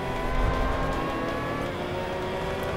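A Volkswagen Beetle race car in the Forza 5 racing game accelerates hard, its engine a steady loud roar with a sustained high tone throughout, with no talking.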